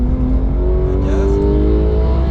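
A race car on the Nürburgring circuit accelerating, its engine tone climbing steadily in a loud, close, continuous drone heard from inside the car, with no clear speech.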